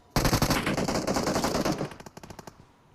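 Rapid gunfire in the BGMI mobile shooter, a dense burst of loud close shots for about two seconds that thins into a few spaced final shots before stopping.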